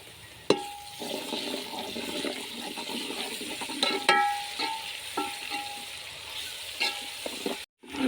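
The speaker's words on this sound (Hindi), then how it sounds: "लहसुन अदरक को जो है अच्छे से भून लेंगे ताकि इसका कच्चापन जो है वो दूर हो जाए" Garlic, ginger and chili paste with onions frying in a pan for a chana curry, a steady close sizzle with occasional sharper clinks and stirring noises throughout, no talking.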